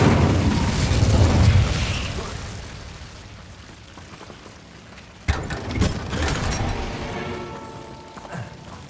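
A fiery whoosh and burst from an Incendio fire spell in Hogwarts Legacy, loud at the start and fading, then a second sharp burst around the middle followed by crackling rumble and game effects.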